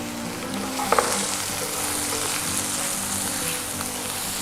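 Chicken pieces seasoned only with salt and pepper sauté in a hot pan, a steady close sizzle and fry that runs throughout, with a couple of brief stirring clicks early on and no talking.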